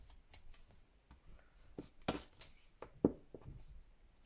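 Scissors cut paper for a handmade journal, with several sharp, close snips spaced irregularly over a quiet room.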